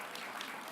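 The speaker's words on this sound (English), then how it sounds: "You can clap." Brief, quiet burst of audience applause at a journalism hall of fame induction ceremony, a steady wash of clapping from a crowd with no voices over it.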